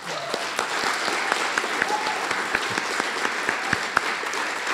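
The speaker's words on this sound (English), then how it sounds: "Alors applaudissons-les une autre fois." Sustained applause from an audience at a national poetry finals, steady clapping with scattered louder claps throughout, no voices over it.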